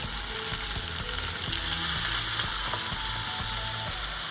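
Beef for stew fries in a pan with a loud, dense sizzle up close, while a low rhythmic knocking rattle runs steadily underneath.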